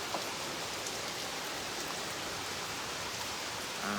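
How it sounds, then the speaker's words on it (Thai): Steady rain falls at the Buddhapadipa Buddhist temple in London, a dense continuous hiss of drops on surfaces, even and fairly loud throughout with no voices. "ไม่ค่อยได้เห็นฝนมานานก็เลยถ่ายทอดสดให้ท่านได้ดูบรรยากาศ ฝน ที่วัดกุทธประคุณในวันนี้"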